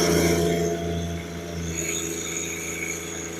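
A John Deere 1023E compact tractor engine runs steadily at full throttle, a loud continuous drone with a strong low hum that holds constant for several seconds with no talking.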